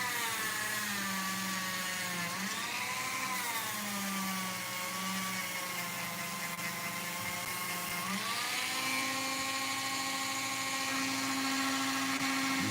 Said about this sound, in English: Loading up the polishing wheel.